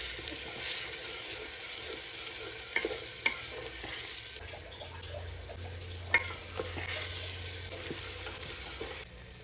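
Onion paste frying in very hot oil gives a steady sizzle all the way through, with a few light clicks of stirring and no talking.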